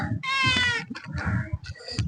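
A cat meows loudly and close by, one long drawn-out meow followed by shorter chirpy calls, with faint voices in the background.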